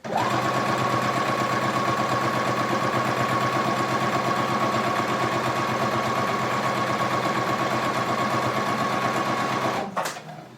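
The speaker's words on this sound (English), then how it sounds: "So let's get this sewn." Sewing machine stitching a fabric rice heating pad, a steady, loud mechanical whir running continuously for about ten seconds before stopping abruptly, with no talking.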